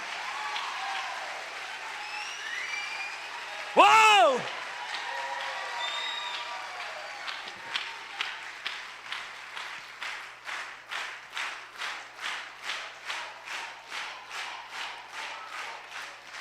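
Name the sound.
congregation applauding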